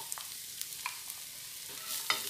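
Onion and garlic going into a pan where two eggs are already frying, giving a soft steady sizzle with a few light scrapes and taps of a utensil, fairly quiet and with no one talking.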